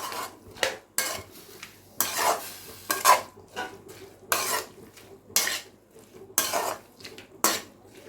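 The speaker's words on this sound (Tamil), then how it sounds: "நல்லா வதங்கணும். ஒரு 5 மினிட்ஸ் மீடியம் ஃப்ளேம்லேயே வச்சு வதக்கிக்கோங்க." Citron pieces sautéed in a pan over medium flame bring rhythmic scraping and clinking of a spoon against the pan, in regular strokes about every half second, with a low sizzle between them.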